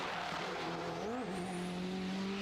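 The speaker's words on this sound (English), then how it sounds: "Car sounds unbelievable as it goes past. Absolutely screams." A Honda race car at Oulton Park screams past at high revs, its engine note sweeping down in pitch as it passes close by, then holding a loud, sustained whine.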